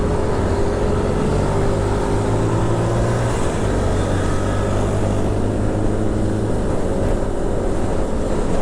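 Brimob police convoy on Kawasaki KLX motorcycles riding past, a loud continuous engine drone heard from a moving motorbike, mixed with wind and road rumble, with no talking.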